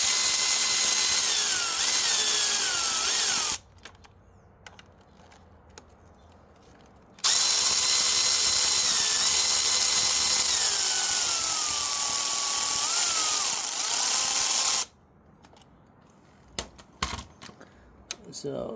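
A cordless power tool removes 8mm brake caliper bolts from a Triumph Scrambler 400X motorcycle's front wheel in two loud, whining bursts of several seconds each, its pitch rising and falling, separated by quiet pauses and light clinks.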